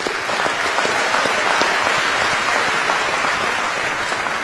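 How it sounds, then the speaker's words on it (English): An audience at an MVP award speech gives a sustained round of applause, dense and even from start to finish, loud and without talk. "Let's give them a round of applause"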